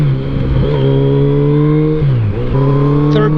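A 2007 Yamaha FJR1300 touring motorcycle engine pulling hard in third gear, a loud, close, steady mechanical drone that dips briefly mid-run and then climbs again in pitch.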